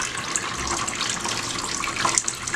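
Water running and dripping steadily from soaked tree-fern panels set on a drying rack, a close, continuous trickling patter with no voices.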